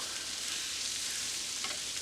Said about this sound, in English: Let that sausage get some sear on it.